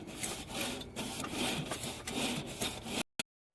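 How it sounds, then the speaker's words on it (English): A wire brush scrubs hot grill grates side to side in quick rasping back-and-forth strokes, close and fairly loud, stopping abruptly after a few seconds. "I just take my brush and I just scrub from side to side in the direction of my grill grates"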